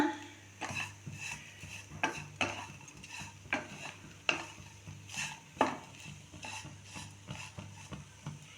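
Bread pieces being turned over and toasted in a kadai for bread chilli, with repeated scraping and stirring strokes in an irregular rhythm over a low steady hum, close and moderately loud, no talking.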